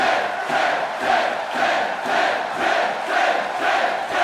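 A large arena crowd roars in a WWE 2K18 wrestling video game, its steady cheering swelling and dipping in a regular rhythm of loud chants.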